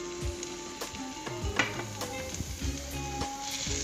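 Mushrooms sautéing in a pan, a soft steady sizzle with sharp clinks and scrapes of a utensil against the pan at a loose rhythm.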